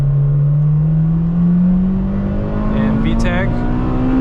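An Acura RSX accelerates hard in second gear, its engine note climbing steadily and loud from inside the cabin, with brief wind and road noise alongside.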